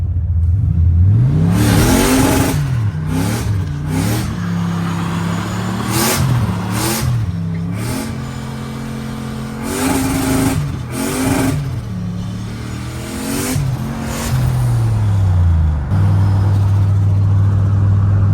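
A 600 HP OBS drift truck pulls hard in second gear, its loud engine revving up and down in repeated surges with rising pitch sweeps and brief gear-change dips, close and continuous.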